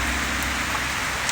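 Steady heavy rain pours down at a beach house construction site in Barbados, a dense continuous hiss driven against a freshly built wall, with no voices.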